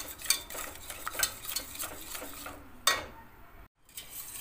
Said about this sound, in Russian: Сейчас добавить нужно куриный бульон. В это время лучше пользоваться венчиком.